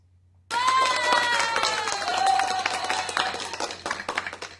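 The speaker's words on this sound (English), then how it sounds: "That deserves an applause." Audience applause and cheering at a live comedy set, a burst of clapping that starts suddenly and stays loud and dense, thinning slightly toward the end, with whoops and voices mixed into the crowd noise.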